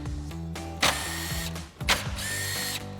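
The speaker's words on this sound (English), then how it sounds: "We have our 10mm socket on our impact, and we'll get those out." A 10mm socket on a power impact wrench takes out the grille screws on a 2021-2023 Ford F-150, giving two whirring, ratcheting bursts up close with short pauses between them and no talk.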